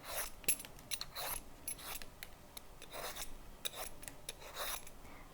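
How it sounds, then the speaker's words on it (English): Knife peeling a mango, a run of soft close scraping and rasping strokes repeating at an uneven rhythm, quiet and alone. "You take off the ends, right? And peel the mango."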